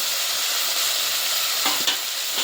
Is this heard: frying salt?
yes